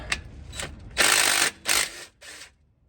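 Small 5/16 impact wrench removing transmission pan bolts on a Ford F150, a few short rattling bursts close by with brief pauses between them.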